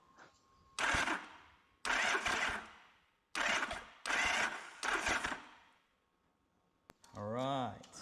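A Yamaha XS750 motorcycle engine cranks in several short bursts with brief pauses between them, then a whining rise near the end; fairly faint overall.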